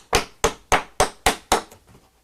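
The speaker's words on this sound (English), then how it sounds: "Get a hammer here, and I'm going to drive this wedge in" Six sharp hammer blows drive a wooden wedge in a quick, even rhythm, then a couple of softer taps trail off; close and clear with no talking.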